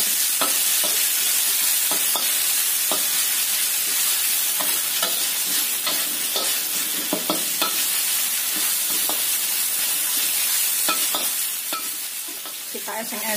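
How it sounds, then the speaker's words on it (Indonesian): Ground spice paste (bumbu ulek) stir-frying in a pan for fried rice vermicelli, a steady loud sizzle broken by repeated scraping strokes of the spatula, with no voices. "Kita tumis sampai matang bumbu uleknya ini."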